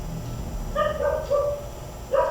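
Dogs bark in a short burst of three or four sharp, somewhat whiny barks over a low background rumble, at moderate distance, with no talking.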